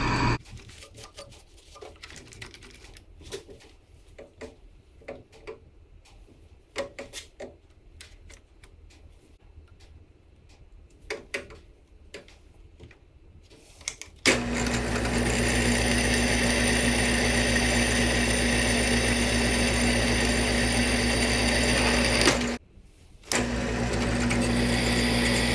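Faint clicks and shuffling, then a drill press drilling through wood starts with a loud, steady whir that cuts out for a moment and starts again near the end.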